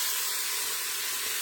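Leeks sautéing in a French crock-pot: a steady bright sizzling hiss, close and continuous, with no talk.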